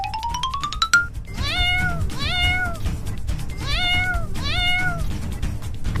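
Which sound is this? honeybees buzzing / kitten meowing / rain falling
kitten meowing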